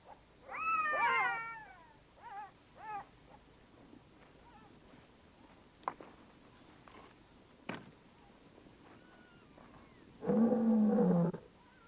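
A lion growling at night in the wild, with a few strong, drawn-out growls and moans in separate bursts among quieter animal calls and faint clicks, closest and loudest near the end.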